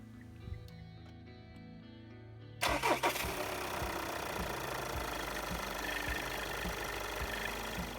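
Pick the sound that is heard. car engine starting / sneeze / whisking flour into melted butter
car engine starting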